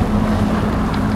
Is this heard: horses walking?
no